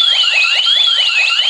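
A home security alarm sounds loudly and nearby, a shrill electronic siren that sweeps up and down continuously with rapid repeating chirps layered over it.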